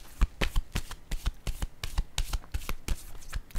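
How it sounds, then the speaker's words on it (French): Tarot cards are shuffled by hand close up, giving a quick run of crisp riffling flicks in an uneven rhythm, quiet and with no voices. "Je vais déposer une carte ici pour voir si on a quelque chose à ajouter."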